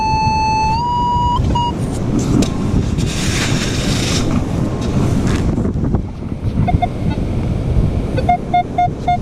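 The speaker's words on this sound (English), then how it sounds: "The wind is so dang strong, like 18 to 20 miles an hour" Strong outdoor wind at roughly 18 to 20 mph roars and buffets the microphone in a steady, loud rush, with a few faint electronic beeps sounding briefly over it.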